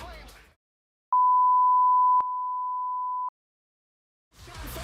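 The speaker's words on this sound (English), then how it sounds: "We have a 1 kHz signal with a different volume." A steady 1 kHz sine test tone sounds alone for about two seconds, stepping abruptly from louder to softer halfway through, bracketed by silence and faint surrounding noise.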